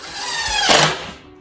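A power drill drives a screw into wood for a DIY coat rack base, a short steady whir rising to a louder burst near the end, close up with no talking.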